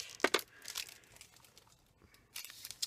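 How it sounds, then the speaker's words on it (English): Plastic packaging from a Stampin' Up seasonal craft supply haul crinkles up close, with sharp crackly bursts at the start and again near the end and softer rustling between. "Sorry for the crinkling."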